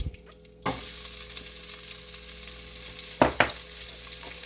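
Onions hit a hot pan for burger steak gravy, bursting into a sudden loud sizzle that settles into a steady close-up frying hiss, with a couple of brief stirring scrapes.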